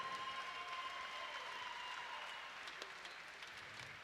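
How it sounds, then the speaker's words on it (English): Crowd applause at a kickboxing fight night, a steady wash of distant clapping from spectators that holds for the whole stretch and eases slightly toward the end, with a faint tone running beneath. "how about a round of applause for these two great fighters?"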